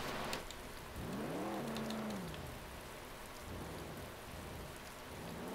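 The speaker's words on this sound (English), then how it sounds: "And of course it's raining." Rain falls steadily in the Roblox game Jailbreak, a constant hiss with faint thunder, under a passing vehicle engine that rises and falls.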